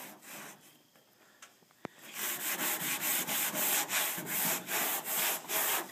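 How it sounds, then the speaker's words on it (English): A rag wipes CLR rust remover onto rusty metal in a rapid rhythmic run of about a dozen rubbing strokes, close and steady, after a few quieter scuffs and a sharp click. "Now I'm going to take this rag so I can wipe some more on here."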